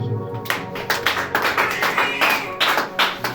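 A church congregation claps rhythmically in steady, sharp beats roughly twice per second, loud and close, with voices singing or calling out underneath.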